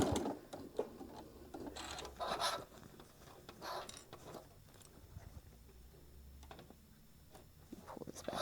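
A domestic sewing machine stitches a mini iron travel case in short, separate bursts of rapid needle chatter, with quiet pauses between them while the fabric is repositioned.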